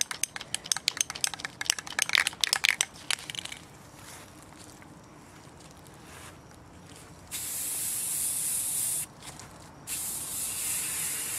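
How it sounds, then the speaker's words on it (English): Spray paint hisses onto a table in steady bursts, coating it purple, preceded by a rapid series of rattling clicks, then longer continuous sprays close to the microphone. "Okay, I'm gonna paint this side of the table purple."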